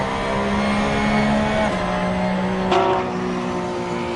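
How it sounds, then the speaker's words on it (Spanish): GT3 race car in an Imola racing video game, its engine droning steadily and loud, with a brief pitch shift as it changes gear partway through, heard alone without talk. "Y se escucha el coche"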